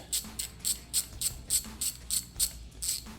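A ratchet wrench with an 8mm socket backs a bolt out of a sensor mount during an Ohlins FGRT 214 fork install on a Ducati Panigale V4, giving eight or nine quick, evenly spaced close clicks with no talk.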